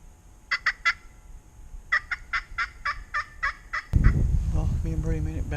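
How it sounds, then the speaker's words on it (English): Wild turkeys gobbling on public hunting land, two quick rattling bursts and then a longer run of repeated gobbles at moderate distance, before a loud rumble and close talk take over. "there's some birds to the north that are gobbling"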